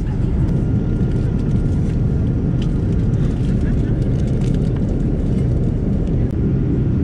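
Steady, broadband roar inside the cabin of a WestJet Boeing 787-9 Dreamliner after takeoff, a constant dense rush of engine and air noise with no breaks and faint clicks and rustles over it.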